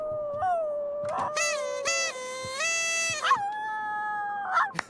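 A dog in The Sims 3 lets out a series of close, drawn-out howls and whimpering yips that rise and fall in pitch over several seconds.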